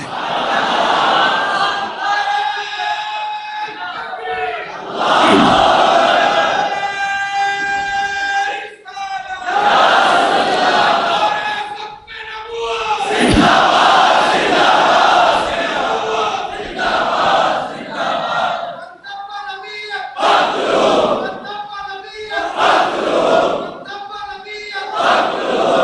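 A large crowd at a religious gathering in Karachi shouts the Zindabad slogan in loud, rhythmic bursts, each call answered by many voices, with short pauses between waves of chanting.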